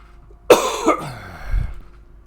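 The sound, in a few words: person coughing repeatedly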